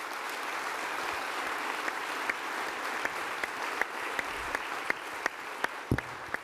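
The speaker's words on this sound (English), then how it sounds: "Give them another round of applause" A large audience at a UCP leadership debate in Edmonton breaks into sustained, even applause from many hands, steady throughout with a few sharper individual claps standing out near the end.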